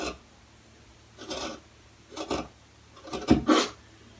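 Fabric for a kick-pleated arched valance pattern being cut away, heard as several short, close rasping strokes of scissors or blades, spaced about a second apart and slightly louder toward the end.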